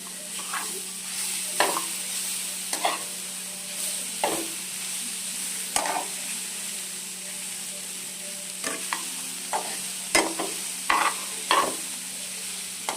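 Cabbage, beans and carrot frying in a pan for a pearl millet vermicelli dish, stirred with repeated scraping strokes over a steady sizzle, close and fairly clear, with no talking.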